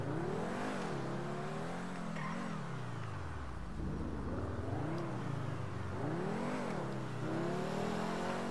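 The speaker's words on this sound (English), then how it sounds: "Whoa, car." In GTA Online, a car engine revs and whooshes steadily through the whole stretch, loud and close, with pitch swinging up and down as it accelerates past.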